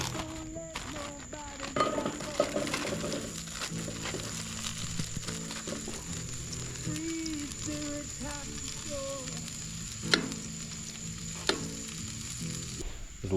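Food sizzles and fries in a pan over a campsite stove on an island at night, a steady crackling hiss with occasional clinks of utensils against the pan, close and continuous.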